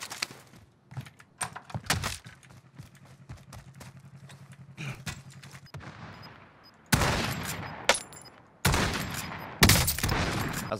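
Gunfire in the Call of Duty Warzone video game: light clicks and taps early on, then three loud, sharp bursts of shots close together near the end.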